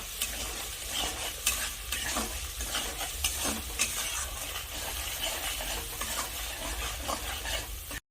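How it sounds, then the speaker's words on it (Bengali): A spice masala of coriander, cumin, dried red chilli, salt and turmeric stirred and fried in a pan, with continuous sizzling and frequent scraping strokes of a spoon throughout, close and fairly loud, no voices. "এখন আমি সবকিছু একসাথে নেড়ে চেড়ে ভালো করে কষে নেব।"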